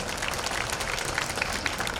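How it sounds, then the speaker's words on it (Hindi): Gathering at a Home Guard foundation day parade in Indore applauding the civil defence team, a broad, even wash of clapping at moderate distance, steady throughout under a noisy outdoor backdrop. "जरा तालियां बजाकर उस टीम का भी स्वागत करें"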